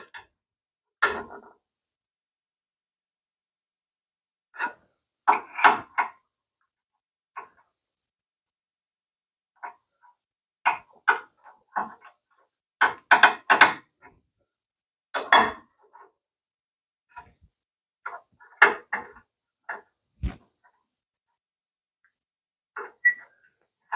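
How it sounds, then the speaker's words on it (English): A wedge on a Shopsmith jointer is unscrewed during knife replacement, giving scattered small metallic clicks and taps close up, separated by silent gaps, with no talking. "pop up the wedge at this end, and we're going to unscrew it."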